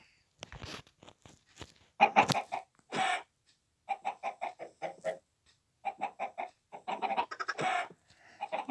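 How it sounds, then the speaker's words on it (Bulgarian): Chickens cluck on an automatic chicken farm in a building video game, loud separate bursts of short, choppy clucks in an uneven rhythm, clear and alone with no talking. "Спалвате кокошки."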